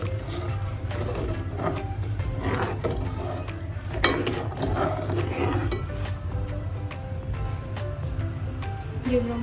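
Palm sugar mixture being stirred in a pot for homemade Khmer grass jelly dessert: close, repeated scraping and light clinks of utensil on pot over a steady low hum, with no voices.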